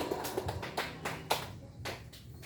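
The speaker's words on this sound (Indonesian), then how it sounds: "Kasih tepuk tangan dong." A few scattered, fairly faint hand claps at a teachers' upgrading gathering for an Islamic school, irregular and sparse with room ambience around them.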